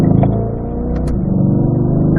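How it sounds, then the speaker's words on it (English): A car accelerating toward turn 10 on a racetrack during a performance driving school lap, heard from inside as a steady, rumbling engine drone with strong low harmonics, close and loud, and a couple of brief higher clicks. "a little acceleration down to turn 10 here"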